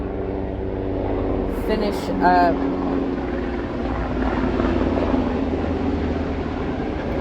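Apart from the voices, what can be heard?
military planes flying overhead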